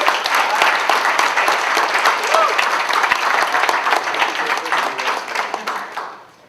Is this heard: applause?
yes